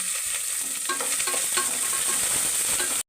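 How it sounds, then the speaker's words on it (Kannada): Chopped onions fry in hot oil for palak pulao, a steady close sizzle with light stirring clinks and scrapes throughout, cutting off abruptly at the end. "ಈರುಳ್ಳಿ ಸ್ವಲ್ಪ ಮರ್ಸ್ಕೋಬೇಕು ಎಣ್ಣೆಯಲ್ಲಿ"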